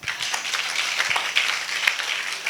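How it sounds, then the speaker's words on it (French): A church congregation applauding during a French-language service, a steady patter of many hands clapping at moderate volume, continuous for a few seconds without any voices. "Acclamons la parole."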